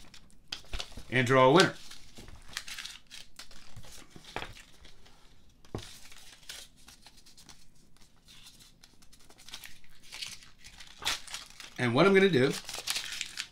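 Paper slips are crumpled and balled up by hand in two short crinkly bursts, near and fairly loud, with a person talking in between.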